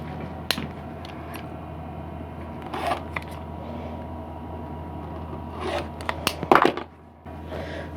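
Quilt fabric is trimmed to 2.5 inches, heard as a few scattered cutting and rustling sounds against quiet, with a short cluster of sharp cuts near the end.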